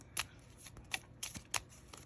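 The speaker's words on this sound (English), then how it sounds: "So I'm going to just shuffle it and see what numbers come up." Tarot cards being shuffled during a numerology reading, a quiet series of soft riffling bursts at irregular intervals with faint papery slaps in between, close and alone.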